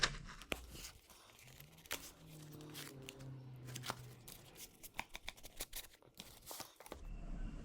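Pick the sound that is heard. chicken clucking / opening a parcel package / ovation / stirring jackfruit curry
opening a parcel package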